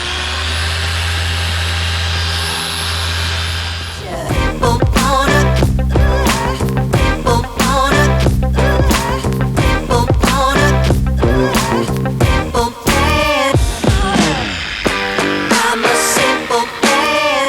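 A polishing machine buffs a plastic headlight on a one-owner Acura RSX at its highest speed, a loud, rough, fluttering mechanical whir with choppy pulses, preceded by a few seconds of quieter, even motor hum at a lower setting.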